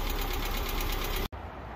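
Turbo-converted Subaru Legacy EJ22T engine idling very low and close to stalling, a rough, knocking low-speed rumble with a shuddering pulse, cut by a brief dropout before the idle continues.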